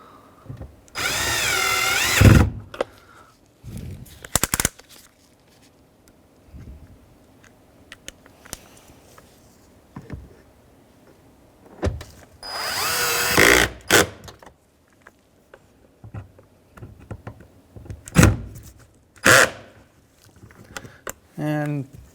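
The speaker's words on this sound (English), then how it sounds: "So now we can reinstall our bolts and screws." A power drill drives screws into the rear exterior door handle of a 2007-2013 Acura MDX, with several loud short whirring bursts separated by quieter handling clicks and occasional speech.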